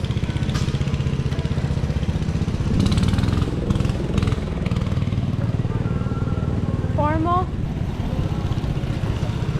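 Antique Allis-Chalmers tractor engine running at an old-time farm show, a steady throbbing putter close by with brief clanks and background chatter from people nearby.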